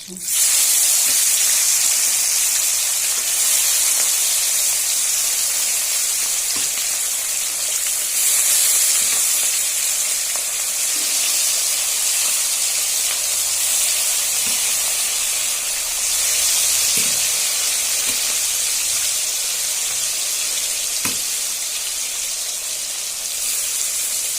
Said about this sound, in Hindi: अभी मछली फ्राई कर रहे हैं।